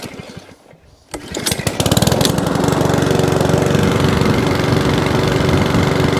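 A Mountfield 164 lawnmower engine starts up, then settles into a loud, steady close-range running drone with no hunting or surging, alone without talk.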